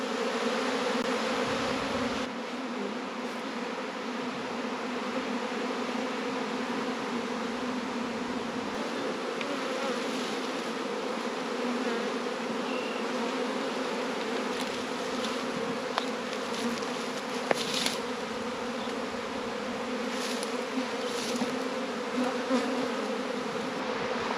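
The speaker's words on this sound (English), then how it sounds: "see all the bees collecting underneath this colony?" Dense, steady buzzing of a honeybee swarm fills the air continuously, a loud droning hum with occasional brief louder passes close by.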